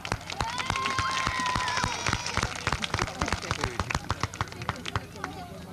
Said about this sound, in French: on les applaudit maintenant